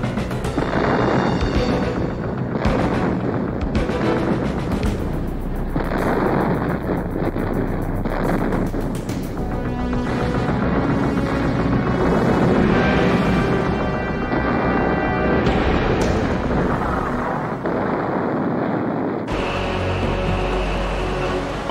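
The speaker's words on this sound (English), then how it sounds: "The Navy guns finally get their chance." Naval guns bombard an invasion beach in a wartime landing, heavy booming blasts recurring amid a continuous roar of wind and engine rumble, loud and dense throughout with no voices.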